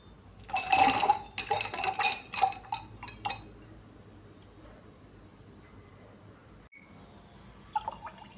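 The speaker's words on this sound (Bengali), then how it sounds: "এটাকে জল দিয়ে ভর্তি করে দিচ্ছি" Stones and water go into an indoor plant pot, with a cluster of bright clinks and clatters early on. Fainter trickling and drips follow, and a few last taps come near the end, all close by with no talking.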